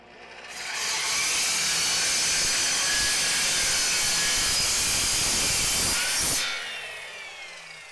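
A Tacklife EMS01A compound miter saw spins up and cuts through clamped wood, a loud, continuous whining roar lasting about five seconds before winding down and fading.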